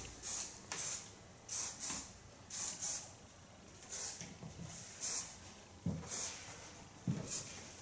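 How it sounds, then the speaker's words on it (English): Short hissing bursts of hairspray misted onto hair during a salon cut-and-color styling, about a dozen quick puffs in uneven pairs and singles, fairly close and moderately soft, with no talking. "Just give it a little bit hairspray"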